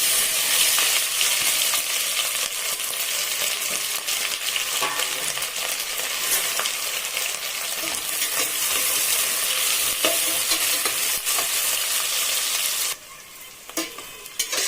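Steady loud sizzling of onions frying in hot oil, with a spatula scraping and stirring the pan throughout, the hiss dropping suddenly near the end.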